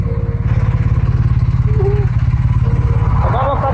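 A motorcycle engine rides onto the Eurotunnel, a loud close pulsing chug with a steady rhythmic beat throughout and a brief voice near the end.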